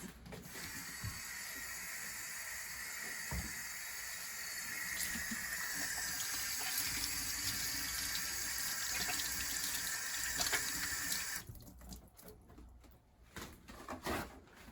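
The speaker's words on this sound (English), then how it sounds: "first we need to wash our hands" Tap water runs steadily into a sink while hands are washed, a continuous close hiss with light splashing that stops abruptly near the end, followed by quieter handling noises.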